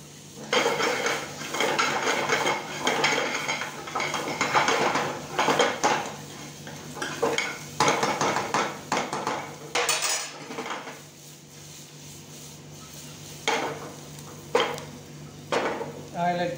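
Spaghetti sauce sautés in a pan, a spoon scraping and clinking against the metal in busy bursts over a soft sizzle, with pauses between stirs and a quick final knock.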